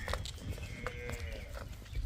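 Livestock calling in a noisy farm setting: a few short lowing calls from buffalo for sale over constant background rumble, with no talking.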